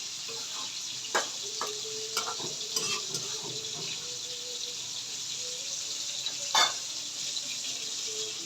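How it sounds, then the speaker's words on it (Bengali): Spinach cooking down in a pan hisses softly while a utensil stirs it, with scattered light scrapes and clinks against the pan and a quiet, steady background. "এখন আমি শাক একটু নাড়া দিয়ে দিচ্ছি দেখেন শাক থেকে কতটা জল উঠে যাচ্ছে"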